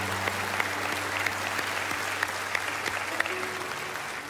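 A church congregation applauds baptism candidates during an Easter service, steady moderate clapping with scattered sharper individual claps over a low hum in a large room.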